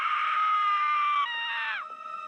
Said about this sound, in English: then we hear a blood-curdling scream